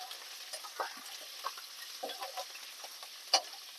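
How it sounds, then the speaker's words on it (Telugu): Urad dal and fresh curry leaves sizzle and crackle in hot oil for a South Indian tempering, with a steady fry hiss and scattered sharp pops, one loud snap near the end. "తాలింపు"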